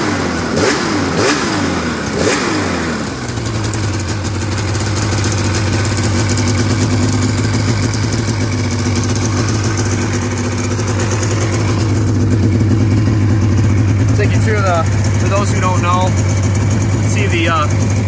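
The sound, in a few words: engine running smoothly after turning the key, new plugs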